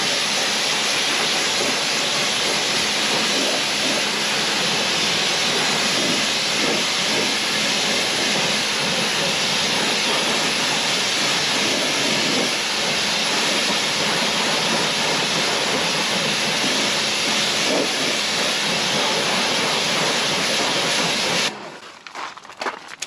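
Pressure washer spraying a loud, steady hiss of water while rinsing a Subaru Forester STI, running continuously for about twenty seconds before stopping.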